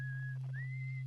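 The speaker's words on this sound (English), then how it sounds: "one of them is just whistling up a storm on the moon of the planet that we're on" A traveler in the game Outer Wilds whistles two sustained notes, picked up through a signalscope, the second rising into place. The whistling sounds faint and distant over a constant low electronic hum.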